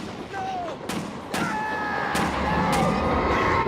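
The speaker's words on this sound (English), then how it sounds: "Those gunshots." Gunshots in the video game Alan Wake, several sharp distant cracks spaced irregularly over a murky ambient background, with a faint tonal whine in between.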